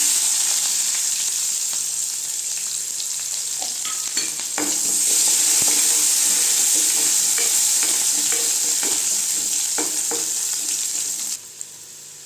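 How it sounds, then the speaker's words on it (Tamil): Onions and curry leaves with mustard and fennel seeds sautéing in a pan, a continuous close sizzle with frequent spoon scrapes and light taps, swelling after a few seconds, then dropping suddenly near the end. "வெங்காயம் வதங்கிடுச்சுங்க"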